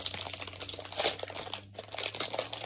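Thin plastic bag from an online bargain shop crinkles steadily and close as a small squishy silicone coin pouch is pulled out, the rustle continuous with a brief pause midway.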